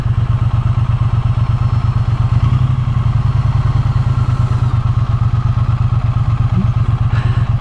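A 2023 Triumph Bonneville T100 motorcycle engine idles at a thousand rpm, steady and loud up close, a fast, even low thumping that continues throughout with faint clatter on top.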